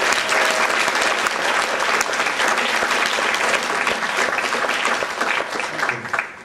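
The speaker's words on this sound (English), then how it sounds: "Would y'all please give a quick round of applause to Skip Ewing?" Loud, sustained audience applause for songwriter Skip Ewing at a symposium, dense steady clapping from a large crowd filling the whole stretch, tapering slightly at the very end.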